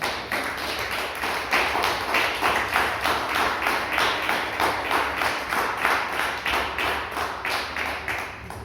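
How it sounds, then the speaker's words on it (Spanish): A church congregation claps in a steady rhythmic beat, loud, close and regular, in about twenty even pulses with no talking over it. "Déselo fuerte el aplauso, hermano."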